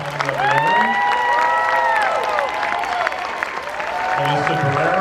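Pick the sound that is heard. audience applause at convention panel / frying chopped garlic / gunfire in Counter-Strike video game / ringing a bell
audience applause at convention panel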